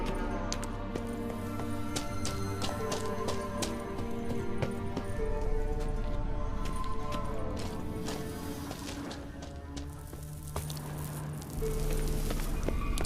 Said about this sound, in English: Kelpie. Another horse.